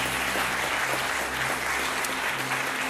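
Studio audience applause on the French TV game show Tout le monde veut prendre sa place, a steady wash of many hands clapping with a low electrical hum beneath and no talk.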